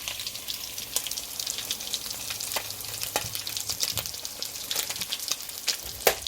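Jamaican-style escovitch fried fish hangs over a pot of hot oil, draining, with a steady close crackling sizzle, broken by a few sharp pops and spits, no talking.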